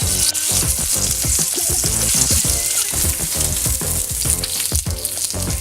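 Fresh tuna searing in a very hot pan, a loud, dense crackling sizzle with bursts of spitting and popping that continues without pause.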